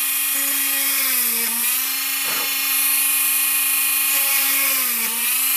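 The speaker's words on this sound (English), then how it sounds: "when you're drilling a small quantity like this, it's kind of therapeutic" A small high-pitched drill bores tiny holes in a circuit board, whining steadily and loud with slight dips in pitch as the bit bites into the board.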